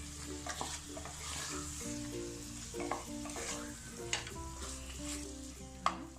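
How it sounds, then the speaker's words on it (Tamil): Garam masala is stirred and sautéed in a pan, with a soft steady sizzle broken by repeated scraping strokes of a spoon, close and fairly quiet, with no voices. "இதை சேர்த்து ஒரு நிமிஷம் வரைக்கும் இதை வதக்கிக்கலாம்."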